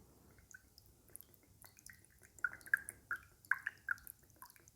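Lemon juice is poured into a glass, giving a run of small bright drips and splashes that grow louder and more frequent near the end against a quiet background.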